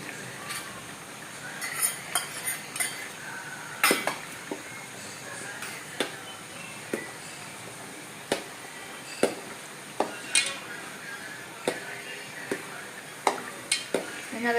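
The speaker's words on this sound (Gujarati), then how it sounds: "જો હવે આદુ મરચાં અને લસણની પેસ્ટ નાખીએ છીએ." Ginger, chili and garlic paste being stirred in a pan for a Gujarati dish, with repeated sharp clinks and scrapes of a spoon against metal at an uneven rhythm, close up over a faint background.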